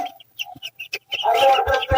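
Two-month-old farm chickens, each about a kilogram, cluck in short bursts that build into a louder, busier flurry of calls close by.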